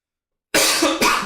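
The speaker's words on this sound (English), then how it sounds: "Oh, sorry for the coughing." Two harsh coughs close to the mic, one right after the other, following a moment of silence.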